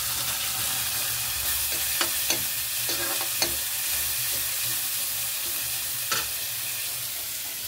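Green chili and garlic frying with spices in a pan: a steady close sizzle with occasional sharp clicks and scrapes of stirring throughout, no talk.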